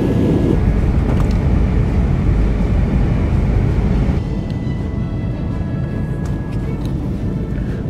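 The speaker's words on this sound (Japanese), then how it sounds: "はい、着陸です。" A Peach Aviation airliner touching down, heard from inside the cabin as a loud, steady low roar of engines and rolling that drops a notch partway through, with faint rattles over it.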